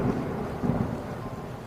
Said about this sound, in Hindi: बादल कड़कने लगते हैं।